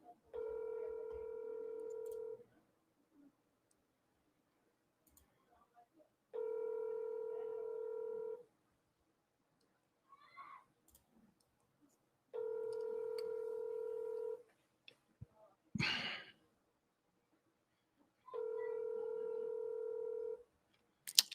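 Telephone keypad tones sound in four steady bursts about two seconds long, separated by pauses, while a call is being placed; a few faint clicks and handling noises fall in the gaps, with no talking.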